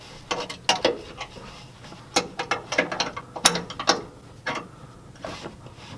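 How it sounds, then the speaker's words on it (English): A 13mm ratchet wrench tightening a bolt on a Firestone Ride Rite air spring installed on a 2013 Chevy Silverado, sharp close clicking strokes in uneven bursts with brief pauses between. "And it is a 13mm wrench."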